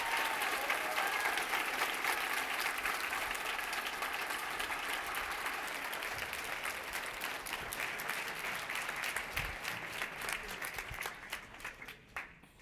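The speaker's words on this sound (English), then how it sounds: "Another round of applause for Rick Barnes, please." Loud, sustained applause from a large crowd, dense clapping that gradually thins and tapers off toward the end.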